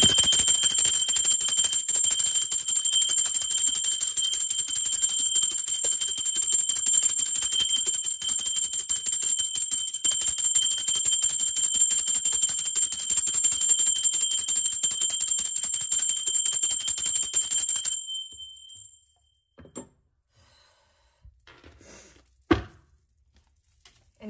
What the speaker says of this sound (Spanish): Ahora sí, va campana.